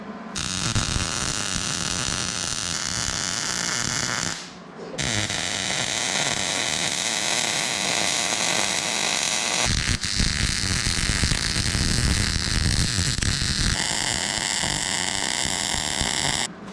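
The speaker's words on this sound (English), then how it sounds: "I'm gonna get that off and go weld it up" Welding a repair part for a RuggedMade Rugged Split RS 737 log splitter, a steady loud crackling buzz that runs almost continuously, breaking off briefly twice as the arc stops and restarts, with no talk.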